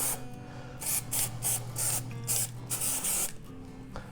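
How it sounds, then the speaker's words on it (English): Spray grease being applied to a spare tire cable and retainer in short hissing bursts, several in quick succession over a steady low background hum, with no talking. "also want to take the opportunity to grease the retainer as well. I coat it all over"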